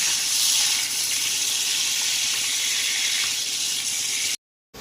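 Potatoes coated in salt and turmeric fry in hot oil, giving a loud steady hiss and bubbling sizzle that cuts off abruptly just before the end.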